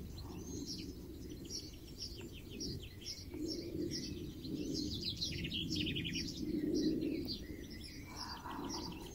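Birds sing outdoors in a steady chorus of chirps and tweets at moderate distance over a soft background hum, with a dove cooing now and then and no talking.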